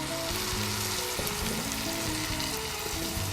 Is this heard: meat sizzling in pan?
yes